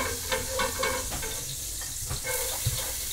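Celery and onions hitting a hot pot for potato soup, giving a soft steady sizzle with occasional stirring clinks and scrapes, heard close and without talk.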